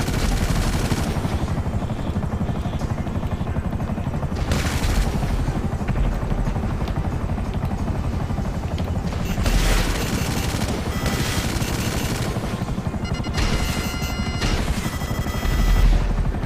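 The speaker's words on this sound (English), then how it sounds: "It's a mix of like using machine guns and missiles." Combat in GTA Online with a helicopter's steady rotor drone underneath, machine-gun bursts and missile booms breaking through at intervals, loud and continuous.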